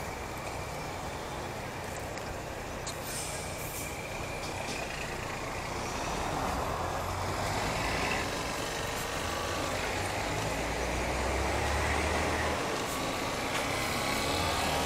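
A truck rumbles along a city street with a low, steady engine drone and traffic noise, growing slightly louder toward the end as it idles and moves nearby.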